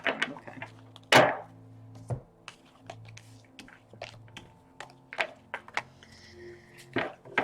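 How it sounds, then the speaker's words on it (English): Oracle cards being shuffled in a quiet room: a run of soft, irregular papery taps and riffles, with one louder burst near the start and scattered light clicks after, close to the mic. "One last shuffle."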